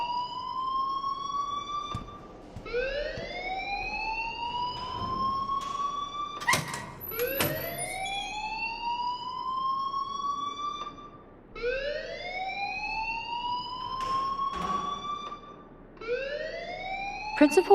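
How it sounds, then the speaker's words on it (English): A wailing alarm in the video game Life Is Strange sweeps upward again and again in loud, overlapping siren-like rises, continuing steadily for the whole stretch. "please turn off that alarm since that's your job"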